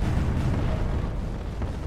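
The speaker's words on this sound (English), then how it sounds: "a Nova Cannon, fire and miss after MTD" A Nova Cannon fires in a Space Engineers space battle, a loud, dense, rumbling blast that fills the whole moment and stays heavy and booming throughout, with no voices over it.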